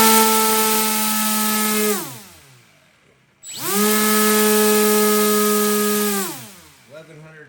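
An RC brushless motor spinning a 9-inch two-bladed folding propeller on a thrust test stand gives a loud, steady high-pitched whine. It winds down, briefly drops out, then spins up to full speed again and tapers off near the end.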